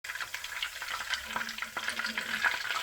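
Chapli kabab fries in oil in a pan with a steady close sizzle and crackle, small pops and spatters rising throughout, with no voices.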